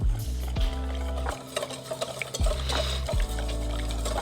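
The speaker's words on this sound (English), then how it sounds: "whisk away," A whisk stirs briskly as hot frying oil is poured into a sizzling sauce for Nashville hot turkey tenders, with rhythmic scraping strokes and bubbling liquid close by.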